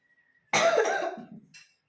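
A single harsh cough from a child bursts out close by and trails off, followed by a brief faint rasp, in otherwise quiet surroundings.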